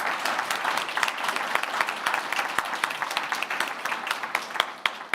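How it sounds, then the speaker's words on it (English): A round of applause from the audience at a European youth programmes event, steady mid-distance clapping from many hands, with individual sharp claps standing out near the end. "let's have a round of applause for our participants"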